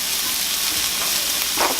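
Bell peppers, jalapenos and mushrooms sauté in a pan, giving a loud, continuous sizzle with a brief burst of stirring near the end and no talking.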